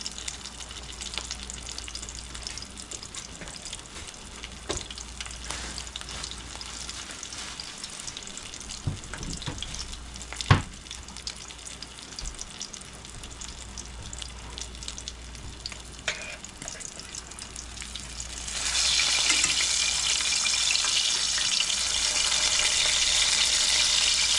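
A toasted fish sandwich sizzles and fries in a pan, a steady crackle with a few sharp clicks and knocks, the frying growing louder and brighter near the end; no one speaks.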